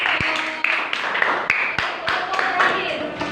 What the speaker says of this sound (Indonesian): tepuk tangan buat kelompok Brando.